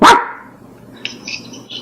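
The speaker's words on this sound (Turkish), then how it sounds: "bak köpek geliyor zaten arkamdan" A single loud, close dog bark bursts out at the start, followed by quieter, higher yips or whines trailing off a moment later, with no talk.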